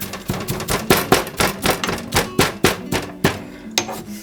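Crumbled ingredients for a pork belly roast with herbed vegetables are given a quick grind, heard as rapid, regular knocking beats about five per second, close and loud, with no talking.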